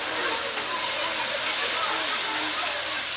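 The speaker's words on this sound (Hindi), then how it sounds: "मीठा पका हुआ पानी मैंने डाल दिया जब तक प्रीति ने इसे चलाया" Sweet cooked syrup poured into hot roasted semolina for halwa, a loud continuous hissing sizzle with bubbling steam, close up and steady for a few seconds.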